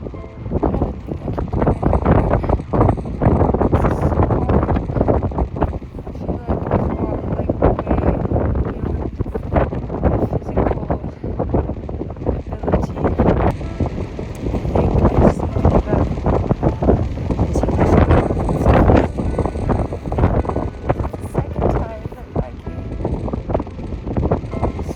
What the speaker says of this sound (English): The wind is trying to blow me away, but I'm going.